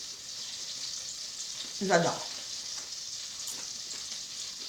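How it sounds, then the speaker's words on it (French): Oil sizzles and crackles in a saucepan during cooking, a steady close hiss with small pops that runs throughout, while a voice briefly speaks partway through. "j'entends que ça crépite dans la casserole"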